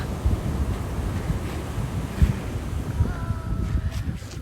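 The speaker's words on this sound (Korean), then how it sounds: "와, 파도가 되게 크다." Big ocean waves crash and churn in strong wind at Jeongdongjin on Korea's east coast, a steady roaring wash with heavy wind buffeting the microphone and a few louder surges breaking through.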